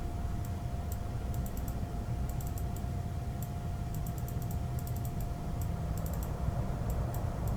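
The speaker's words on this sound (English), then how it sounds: "You may hear me clicking." Quiet mouse or keyboard clicks while playing The Room puzzle game, sparse irregular taps in small clusters over a steady low background hum.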